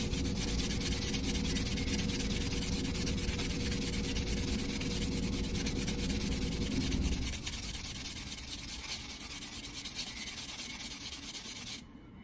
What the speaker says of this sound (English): I'm going to sand this cut edge one more time, just to make sure we've got a nice smooth edge on it